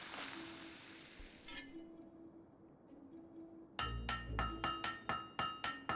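A blade is hammered at a forge in Fable 3. After a quiet stretch, about eight bright ringing metallic strikes land in a steady rhythm, each clang decaying before the next.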